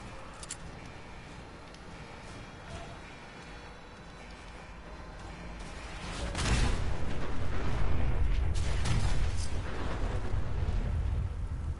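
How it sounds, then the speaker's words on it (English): A small nuclear blast in a Fallout game erupts after a quiet stretch of scattered ambient clicks into a heavy, rumbling explosion that stays loud and roaring for several seconds, with no voices over it. "Small nuclear explosion later."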